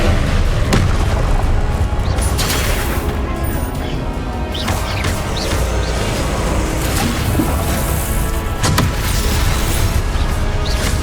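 Confringo blasting spells explode in a Hogwarts Legacy duel: loud, repeated booms and crashing impacts over dense, continuous combat noise, with several sharp bursts standing out across the stretch.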